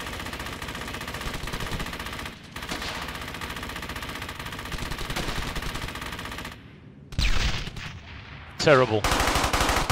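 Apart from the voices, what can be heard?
machine gun fire in video game Brothers in Arms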